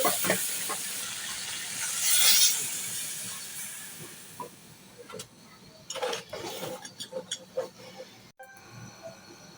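A pot of fish curry with winter vegetables comes to a boil on a gas stove late at night, giving a steady steamy hiss with a louder surge early on and scattered light ticks and bubbling pops later.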